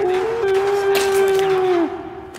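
A dog in the survival video game Sons of the Forest lets out a long, loud, sustained howl-like whine that holds steady and then drops off, close and prominent over a low background.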